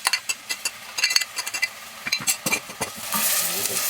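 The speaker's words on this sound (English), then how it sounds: "Stir frying it neatly so it doesn't stick." Onions, ginger, garlic and chili stir-fry in hot oil for urad dal, with rhythmic scraping strokes of a spoon in the pan over a soft sizzle that swells into a steadier fry near the end.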